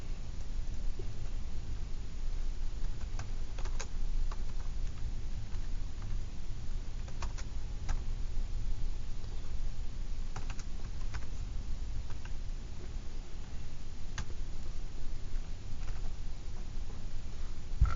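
Numbers are tapped into a calculator for a trigonometry problem: scattered light clicking key presses, close and faint, over a steady low background hum.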